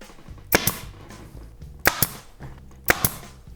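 A pneumatic staple gun fires into Karmann Ghia rear seat upholstery in three sharp paired bursts, each a loud snap with a quick follow-up hit, spaced about a second apart over a quiet background hum.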